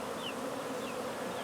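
A bee swarm buzzes steadily beside a top bar beehive, a continuous close insect drone with a few brief higher whines of individual bees passing over it, with no talking.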